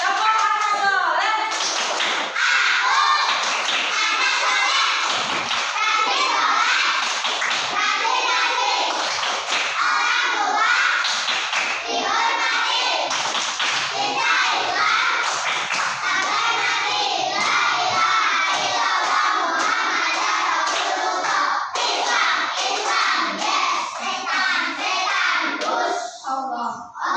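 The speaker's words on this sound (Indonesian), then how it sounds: "Tepuk tangan buat anak-anak semuanya." Children applauding together at a school classroom gathering, a long sustained burst of dense clapping with excited young voices shouting and chattering throughout.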